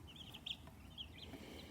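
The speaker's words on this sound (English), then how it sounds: "Here's my birds at almost 3 weeks old." Backyard chicks about three weeks old clucking and peeping in soft, irregular bursts, fairly close but quiet, over a low background hum with no talk.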